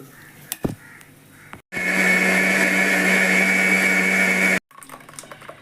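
A blender whirs steadily for about three seconds, starting and stopping abruptly, with a few clicks and handling noises before and after.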